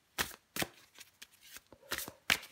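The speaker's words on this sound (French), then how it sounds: "je prends encore une carte pour vous, les taureaux" A tarot card is drawn from the deck in several quick, crisp card sounds, five or six soft slaps and flicks spaced across a short moment, close and fairly quiet with no talking.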